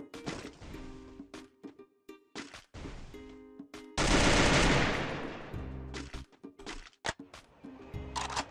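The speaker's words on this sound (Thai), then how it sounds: "ใครเขามายิงรถหนูเนี่ย" Video game gunfire in Free Fire aimed at a car, rapid bursts of close shots and automatic fire with a loud heavy blast in the middle and scattered single shots after.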